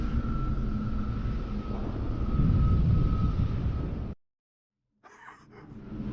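A Covenant Phantom dropship from Halo 3: ODST comes in to land with a loud, steady, droning engine hum carrying a sustained tonal whine. It cuts out abruptly, and after a brief silence a softer rumble fades back in.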